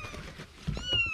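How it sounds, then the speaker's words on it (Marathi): Three small kittens meow in thin, high, repeated cries at close range, with light background noise and no talk. "3 मांजरे आहेत येऊ कशी ओरडते आहेत"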